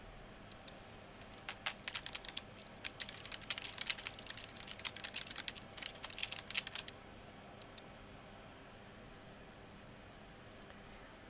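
Soft, close typing on a computer keyboard, with irregular clicking keystrokes over a faint hiss for about seven seconds before it stops and quiet remains.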